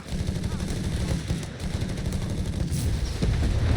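Heavy, continuous G43 rifle and MP40 submachine gun fire in Company of Heroes 3, a dense roar of overlapping shots at steady loudness that swells near the end.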